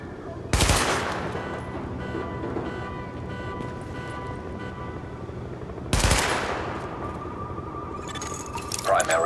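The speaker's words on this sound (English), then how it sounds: "Open fire at the highlighted targets." Weapon-test gunfire in the video game Tom Clancy's The Division, with two sharp, loud shots several seconds apart standing out above a steady dense background of game ambience and voice.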